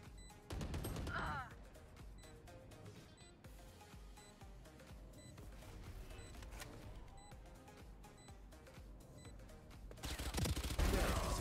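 Gunfire in the tactical shooter Valorant, with a loud burst of shots near the start and another heavy volley at the end, set against dense game sound effects and background music.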